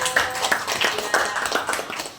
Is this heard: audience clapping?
yes